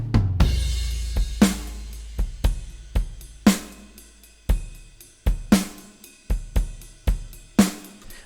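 A drum bus processed through an Arturia effect plugin plays a steady groove of punchy kicks and crisp hits, with regular sharp transients and bright cymbal wash, loud and alone with no voices.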